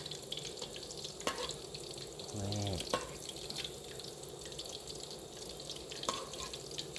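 Fish frying in a pan, a continuous crackling sizzle at moderate level with a few sharp clicks and a brief low rumble midway.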